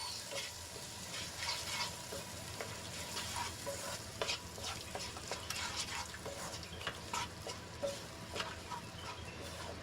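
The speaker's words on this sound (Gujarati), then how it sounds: "પેસ્ટને સરસ રીતે ડુંગળીમાં મિક્સ કરી લઈશું" Spice and yogurt paste is stirred into frying onions, a quiet, close sizzle with soft scraping and stirring strokes repeating throughout.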